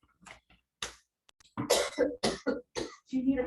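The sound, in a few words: cough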